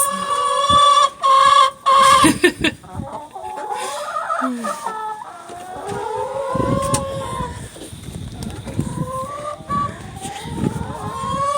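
Hens cluck and squawk loudly inside a backyard chicken coop, with close, overlapping calls and a few sharp bursts, while a person speaks briefly among them.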